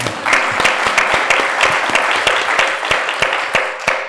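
Audience applause after a presentation on climate and energy polling, dense steady clapping from a crowd with sharp individual claps standing out, sustained and fairly loud throughout.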